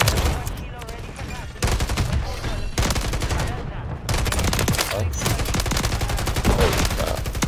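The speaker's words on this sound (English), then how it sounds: "that's why they're throwing nades like that at me" Call of Duty MW3 game combat with dense, loud bursts of gunfire and explosive blasts filling the whole stretch, broken by short dips before the barrage resumes.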